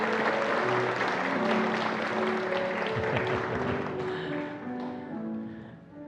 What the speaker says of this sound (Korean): 우리 뜨거운 박수 한번 보내주세요